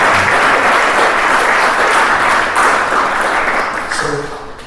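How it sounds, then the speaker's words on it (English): Sustained audience applause fills a jazz interview event, dense and steady clapping from a crowd that tapers slightly toward the end. "This way y'all clap a lot, right quick."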